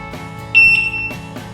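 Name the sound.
Begode RS electric unicycle beeping at power on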